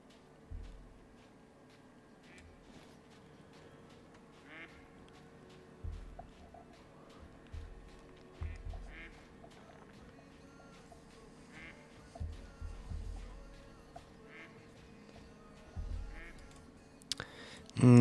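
Mallard ducks quack in short scattered bursts in theHunter: Call of the Wild, moderately distant, over a quiet outdoor ambience with faint ticking and a louder knock near the end.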